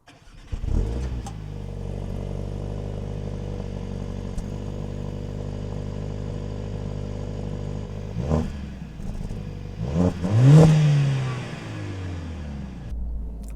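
Mercedes-AMG A 45 S in comfort mode gives a steady, close exhaust drone, then a sharp rev flares near the end before settling back.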